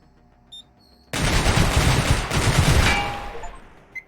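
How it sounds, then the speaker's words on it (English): Rapid automatic gunfire from turrets shooting at the player in Receiver 2 erupts suddenly after a quiet moment, a dense loud burst of shots lasting about two seconds before fading out. "There's two things shooting at me."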